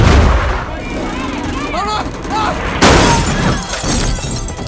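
A thunderous movie-style crash as the ground collapses, with loud rumbling, shattering debris and booming impacts rolling on throughout, blended with a voice.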